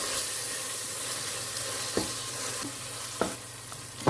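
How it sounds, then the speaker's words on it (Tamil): Tomatoes with salt sautéing in hot oil for chicken biryani give a steady close sizzle and fry, with a few soft spoon-stir scrapes and clicks against the pan and no talking. "உப்பு சேர்த்துட்டு நல்லா வதக்கி விட்டுக்கலாம்."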